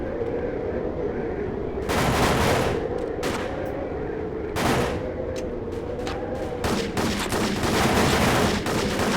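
Gunfire in the video game Hitman Contracts comes as sharp, loud shots, singly and in rapid bursts, over a constant background hum. No one speaks.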